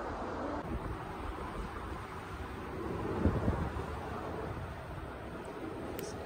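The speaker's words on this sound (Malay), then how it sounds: "Angin sikit punya kuat tau." Strong wind blowing across the Penang Bridge, a continuous broadband rush buffeting the microphone, with a brief gust swelling midway and no speech.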